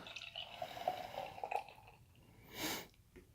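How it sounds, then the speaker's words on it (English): Dark Petite Pastry Stout from Fifth Frame Brewing pours from a can into a glass, a quiet close gurgle and trickle followed by a brief foamy fizz near the end. "let's pour this into the glass"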